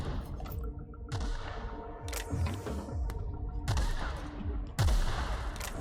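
Gunfire from a weapon in the video game The Outer Worlds, with several loud bursts of shots spaced a second or so apart over a steady background din.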